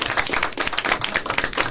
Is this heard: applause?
yes